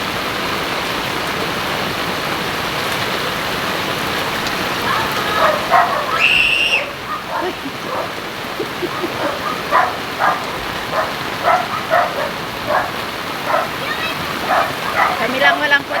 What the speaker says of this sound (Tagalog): grabe, lakas na ng ulan. Palakas na ng palakas mga guys.